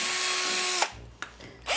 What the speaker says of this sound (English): I'm gonna just drill through it.